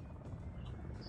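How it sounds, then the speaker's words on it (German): A helicopter approaches in the tactical shooter Ghost Recon Wildlands, a low rumbling rotor drone that holds steady and fairly faint through a brief moment. "Da nähert sich ein Helikopter."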